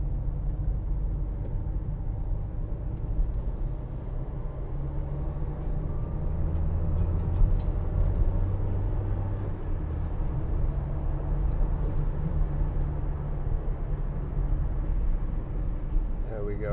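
A 2016 Vauxhall Vivaro 1.6 CDTi ecoFLEX van rounds a roundabout, heard as a steady low diesel drone and road rumble from inside the cab, with a slight rise in engine note midway.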